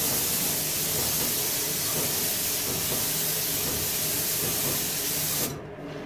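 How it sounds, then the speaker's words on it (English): A Graco 390 PC airless sprayer set near 1800 PSI hisses steadily and loudly as it sprays primer onto MDF, a continuous close spray that cuts off abruptly near the end. "We're using a Graco 390 PC airless sprayer."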